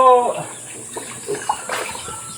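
Water splashes and runs as it is poured over chickens to bathe them, a close, loud gush at the start that settles into softer trickles and drips, with faint background voices.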